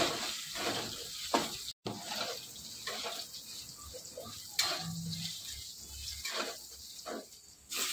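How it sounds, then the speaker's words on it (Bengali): Potatoes and elephant foot yam fry in oil, a soft, steady sizzle with occasional stirring clatter, fairly quiet and with no talk. "আলু ওল সব ভালো করে ভেজে নিতে হবে।"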